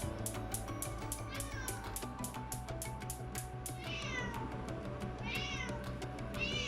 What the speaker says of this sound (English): my cat wants the prawns